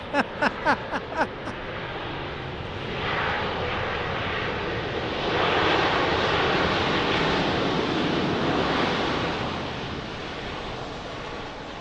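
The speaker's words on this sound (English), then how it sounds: "Southwest landing right there" A Southwest Airlines jet landing at Dallas Love Field in severe weather, a loud broad roar building and swelling as it passes, with wind and a few sharp knocks near the start.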